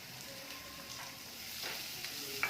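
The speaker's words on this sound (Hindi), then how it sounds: "अब इसमें एक मीडियम साइज का बारीक कटा प्याज डालेंगे" A medium-sized, finely chopped onion sizzles gently in a pan of cooked spices over low heat, a faint, even frying hiss with a few soft stirring scrapes near the end.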